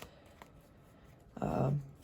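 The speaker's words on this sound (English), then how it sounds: "You can also do an overhand shuffle, a top retention overhand shuffle like that" A deck of playing cards gets a brief top-retention overhand shuffle, a soft close riffling burst lasting under half a second after a quiet pause, with someone speaking around it.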